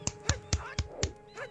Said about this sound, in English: I can clap on my face.